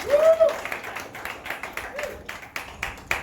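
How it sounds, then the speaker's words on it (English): Scattered, light clapping from a comedy roast audience, with a short whistle-like tone at the start and uneven claps continuing throughout. "Let's get another round of applause for him."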